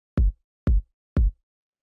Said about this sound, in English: It's just like a pretty simple, clean kick.